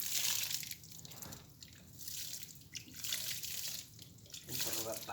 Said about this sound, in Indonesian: setelah kita tanam, kita siram